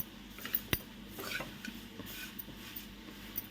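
Thin poha chivda being stirred in a pan: light scraping and a few sharp clinks of a spoon against metal, with a soft rustle of the dry flakes.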